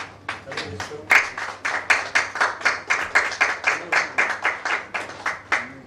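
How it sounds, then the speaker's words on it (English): An audience at a bank quiz semi-final applauds a team from State Bank of India, Baripada, with steady, fairly loud rhythmic clapping throughout and a voice speaking over it. "A huge round of applause for the team from State Bank of India, Baripada."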